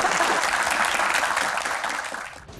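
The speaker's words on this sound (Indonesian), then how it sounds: "Tepuk tangan." A Q&A audience breaks into a dense burst of applause, loud and even from the start before tapering slightly at the end.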